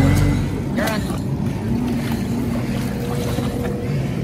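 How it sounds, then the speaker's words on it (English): A Bullet V1 boat runs on open water with a newly fitted motor being broken in, its engine drone loud and steady alongside wind and water noise, with people talking faintly over it. "we're also here testing a Bullet V1 that we just put a new motor in, breaking it in."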